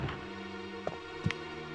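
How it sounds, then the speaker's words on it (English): A Hunter monster in the original 1996 Resident Evil gives two short growling cries over a low, steady game ambience, brief and fairly faint, each lasting only a fraction of a second. "that was the sound of a hunter"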